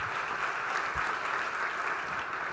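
An audience at a summit IT Alliance panel applauds to welcome a speaker, a steady, dense clapping that continues throughout at an even level.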